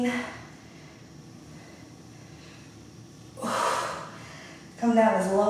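During an at-home strength and cardio workout with squats and overhead presses, a person gasps and exhales heavily in a few loud, breathy bursts separated by quieter stretches.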